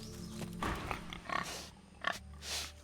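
A pig in Divinity: Original Sin 2 gives several low grunts and a snort, fairly quiet over a soft game ambience.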